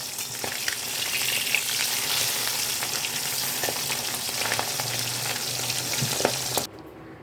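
Pabda fish sizzle steadily in hot oil in a pan, with scraping and clinks as the pieces are flipped, the frying continuing evenly before cutting off abruptly near the end.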